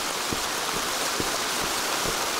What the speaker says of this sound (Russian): Дождик, это была молния.